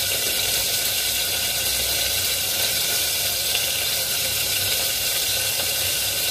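Oats roll batter sizzles in a pan over a gas stove, a steady, close, unbroken frying hiss with no talking.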